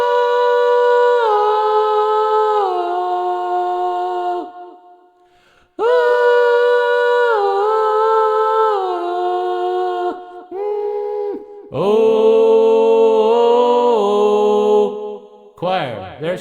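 A voice sings through the choir effect of a podcast mixer, producing layered, harmonized sustained tones in several long phrases separated by brief pauses, close and prominent with no plain talking.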